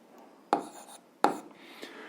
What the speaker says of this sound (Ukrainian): Ну а зараз записуємо друга дія.